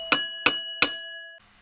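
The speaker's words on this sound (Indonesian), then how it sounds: "Bunyi lonceng terdengar lagi." A clear metal bell sounds three evenly spaced strikes, each ringing on briefly before it cuts to silence, with no voices, setting an eerie horror-story mood.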